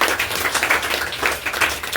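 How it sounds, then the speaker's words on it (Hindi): A crowd at a school awards ceremony claps and applauds steadily for a couple of seconds, a dense even patter of many hands. "जोरदार तालियां हो जाए"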